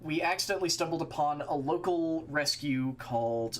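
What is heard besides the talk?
None of the usual background noises is heard.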